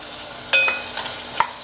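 Drumsticks (moringa pods) sizzle in hot oil with onions for a tomato, drumstick and cucumber curry, stirred with scraping utensil clanks over a steady close frying hiss.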